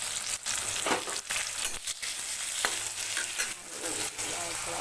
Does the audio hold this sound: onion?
yes